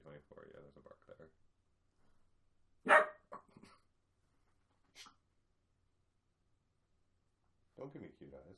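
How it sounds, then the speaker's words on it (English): A dog lets out a single sharp bark, followed by a few quieter short yips, with people talking softly before and afterward. "there's a bark there"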